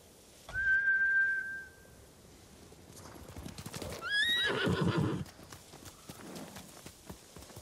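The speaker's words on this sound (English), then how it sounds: "Bastards scared off the horses." Horses in the video game Ghost of Tsushima, trained samurai mounts, neigh and whinny loudly, followed by galloping hooves and a second shrill whinny before the hoofbeats fade into the distance.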